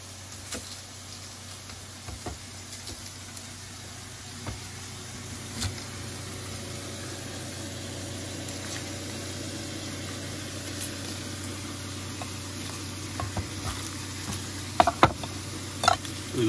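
Half an onion frying in a pan for spaghetti squash lasagna gives a steady low sizzle under a constant background hum, with a few sharp utensil clicks and scrapes scattered through it.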